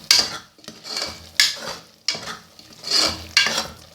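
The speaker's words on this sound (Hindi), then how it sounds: "अच्छी तरह से इसकी भुनाई करेंगे।" Potato keema being sautéed and stirred in a pan, with rhythmic scraping strokes of a utensil against metal every second or so over a soft frying sizzle.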